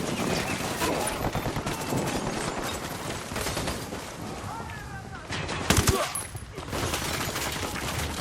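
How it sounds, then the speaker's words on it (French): Bursts of automatic gunfire from a firefight in the video game Ghost Recon Wildlands rattle continuously and loudly, with one sharper, heavier blast partway through. "J'ouvre le feu."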